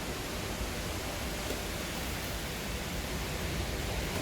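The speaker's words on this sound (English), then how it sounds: "Sorry about the wind." Wind blowing outdoors across the microphone, a steady broadband roar that stays even and loud throughout with no voices.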